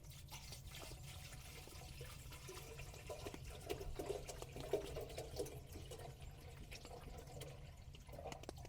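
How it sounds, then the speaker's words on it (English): Water is poured into the water tank of a hot tent stove during snowy winter camping, a faint, soft trickling and splashing that runs quietly for several seconds with no talking. "So I just open that up, pour water right in here."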